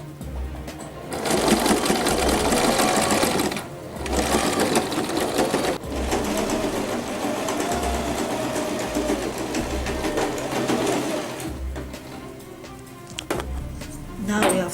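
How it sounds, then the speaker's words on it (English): A sewing machine stitches along a pinned fabric waistband, its steady rapid needle rattle running in long continuous bursts with brief pauses between them, close and fairly loud throughout. "So because you have pinned in place, sewing will be very easy and fast."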